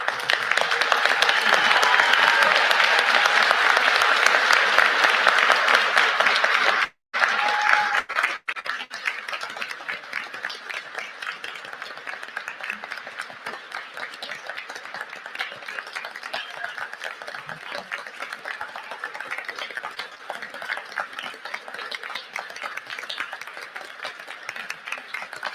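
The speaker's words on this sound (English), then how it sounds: "invite the audience to rise and offer the entire graduating class a round of applause" A graduation audience at Saint Mary's University in Halifax, Canada, gives the entire graduating class a long round of applause, loud and dense at first, then thinning to a steadier, lighter clapping from a large hall crowd.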